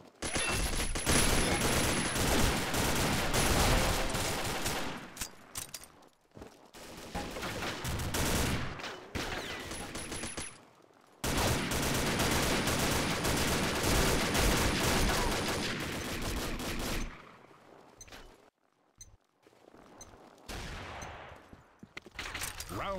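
L85A1 rifle from Combat Arms firing in bursts, loud rapid volleys of gunfire that come in sustained stretches broken by brief silent pauses, with no talk.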